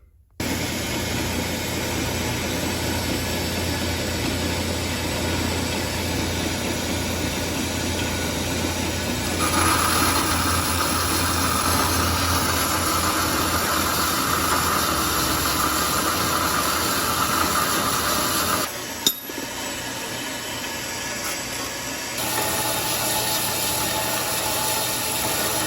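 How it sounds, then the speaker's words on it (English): A bandsaw cuts a steel tube flush for an anti-roll bar fabrication, giving a steady loud mechanical whir and hiss that runs nearly nonstop, with a brief pause near the end before resuming. "mark with a Sharpie around the edge of there and cut that tube flush"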